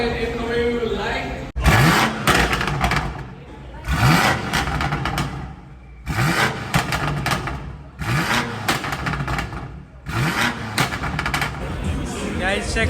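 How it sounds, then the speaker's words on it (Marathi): A V8 car engine at an underground car meet in Pune revs hard in repeated loud bursts, each swelling and falling away, with voices talking over the engine noise. "गाइस चेक करा एज अ V8 इंजिन"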